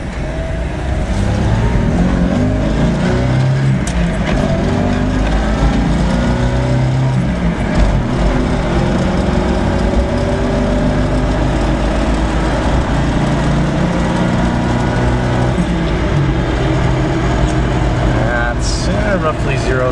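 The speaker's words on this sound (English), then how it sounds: "I'm gonna do a little acceleration here." A car engine accelerating away from idle at close range, roaring loud and steady through a long pull as the revs climb and shift, with a rattly, harsh edge over a continuous low drone.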